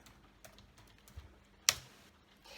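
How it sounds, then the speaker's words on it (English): Sparse, quiet taps on a computer keyboard, with one sharper key strike partway through, close by in a quiet room. "I'm going to type in"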